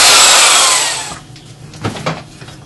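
A drill bores into wood for a tenon joint on a yew and ash Windsor chair, a loud whirring bite that winds down after about a second. A few soft knocks and scrapes of the workpiece follow.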